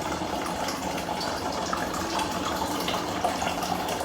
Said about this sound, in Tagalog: So butangan na to og tubig.